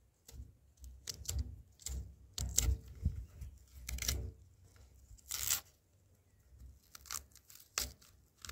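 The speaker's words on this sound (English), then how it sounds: "You start gently by cutting through the leaves like this." A knife slices through plantain sucker leaves, giving close, quiet tearing and crinkling rasps in short irregular strokes with brief pauses between.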